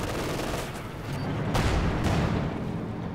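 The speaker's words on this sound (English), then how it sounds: "dealing with the conscript north there with the Sturmgeschütz, machine gun and main gun" A StuG assault gun in the Company of Heroes 2 video game firing its machine gun and main gun, a dense rattle of gunfire with heavy booming shots around the middle, loud and continuous.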